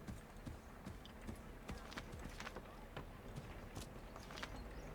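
Horse hooves in the Assassin's Creed III video game, a steady rhythmic clip-clop of galloping hooves throughout, with a voice talking over the game sound.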